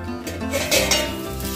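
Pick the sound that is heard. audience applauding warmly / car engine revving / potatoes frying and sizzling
potatoes frying and sizzling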